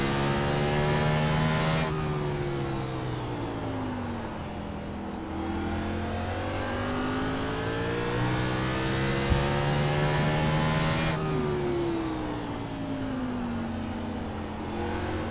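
A race car engine in the iRacing simulation at Martinsville short track climbs and falls in pitch through repeated throttle-on, throttle-off cycles, a loud continuous whine with gear-like drops, no talking.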